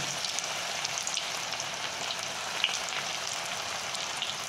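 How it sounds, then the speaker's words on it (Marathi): Bhaji fritters studded with corn fry in a kadhai of hot oil on high heat, giving a dense, steady sizzle with fine crackles that holds at an even level throughout, with no voices. "ते भजी टाकून घेऊया याचे, आणि हे हाय हीटवरच फ्राय करून घ्यायला"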